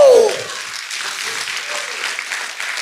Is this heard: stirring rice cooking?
no